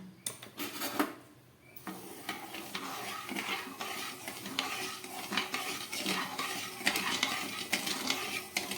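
Spoon stirring about 200 grams of sugar into nearly three cups of water in a pot, a steady scraping and clinking that runs through the whole stretch, close and moderately loud.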